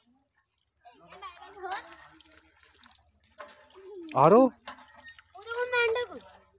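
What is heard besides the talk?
water filling from a tap for goats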